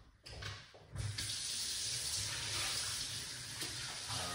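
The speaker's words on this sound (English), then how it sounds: "So the first thing what we're going to do in the meantime, leave the lime. I'm gonna wash off the lime then" Tap water running steadily into a sink as limes are rinsed under it, a continuous close splashing rush that starts abruptly and holds for several seconds.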